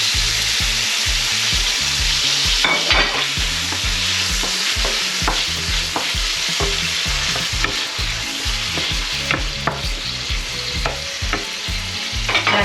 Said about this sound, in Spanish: En el mismo aceite vamos a freír el pescado.